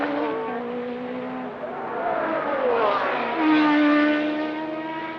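Formula 1 race cars at the 1982 Belgian Grand Prix, high-pitched engines whining past one after another, swelling as each car nears, with a commentator talking over them.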